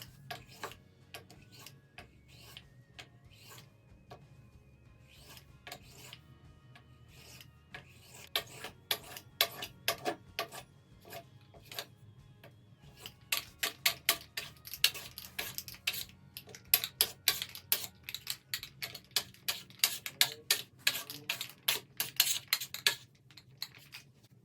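A knife cuts through rolled chin chin dough on a board in a long run of sharp, evenly spaced taps that start sparse and quiet and then grow faster and louder. No one speaks.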